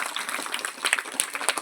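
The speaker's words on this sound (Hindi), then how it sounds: "एक बार जोरदार ताली इनके लिए।" A classroom claps for a student's correct answer in a burst of brisk, dense applause from many hands that keeps up for the whole moment, close and fairly loud.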